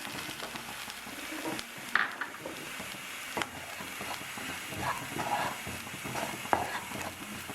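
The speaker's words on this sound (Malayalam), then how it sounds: "ഉള്ളി, ഇഞ്ചിയും വെളുത്തുള്ളിയും ചേർത്തതിന് ശേഷം നന്നായിട്ട് വീണ്ടും വഴറ്റി കൊടുക്കാം." Onion, ginger and garlic with coconut sautéing in a pan for a Kerala chicken varutharachathu, a soft steady sizzle with occasional scrapes and clinks of a stirring spoon, fairly quiet and close.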